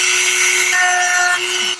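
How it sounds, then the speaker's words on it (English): A Dremel sanding wheel trims the edge of a hole cut in a Hobie Outback kayak hull, giving a close, loud, continuous high whine with a grinding rasp that eases off at the end. "this little sanding wheel, this Dremel attachment"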